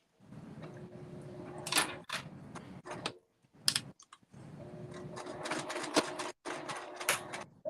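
A sewing machine stitches down the sides of a fabric crossbody phone bag in rapid, rattling mechanical bursts, stopping and restarting several times with short silent gaps between runs.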